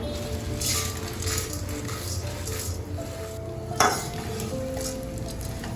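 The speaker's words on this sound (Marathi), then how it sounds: "डाळ पण आपल्याला साधारण परतून घ्यायची आहे तेलामध्ये" Dal sizzles and crackles in hot oil in a kadhai as a spatula stirs and scrapes the pan while making chivda, with one sharper clink midway.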